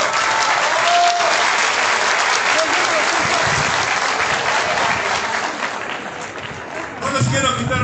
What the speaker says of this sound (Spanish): les pido del presidium a la gente un fuerte aplauso para ustedes